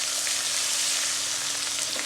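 A tablespoon of ginger garlic paste fries in a hot pan for a biryani sauce, giving a dense, continuous, loud sizzle with no talking.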